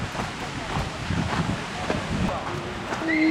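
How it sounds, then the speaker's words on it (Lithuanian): Wind gusts rush across the microphone on a small bridge in open Danish farmland, a steady blustery roar with faint background sounds beneath it. "Vėjas pučia."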